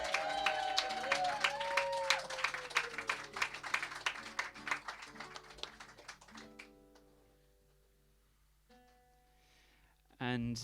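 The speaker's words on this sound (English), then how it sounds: "And a round of applause for everyone in the kitchen," A small audience at a live music gig claps steadily for several seconds, the applause tapering off to silence, then a voice speaks briefly at the end.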